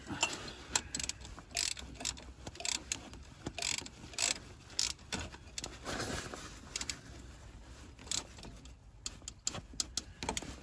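Ratcheting and metallic clicks from tightening a bolt on a 2007 Mitsubishi L200 during a head gasket replacement, irregular bursts of clicks close by in a workshop, fairly quiet.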